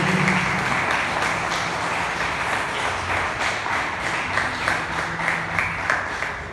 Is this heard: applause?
yes